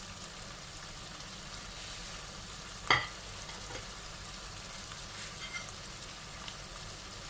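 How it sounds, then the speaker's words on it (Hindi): Mutton frying for matar gosht as tomatoes are dropped into the pan: a steady, quiet sizzle with one sharp clatter partway through and a few small stirring knocks, no talking. "अब इसमें टमाटर डालेंगे।"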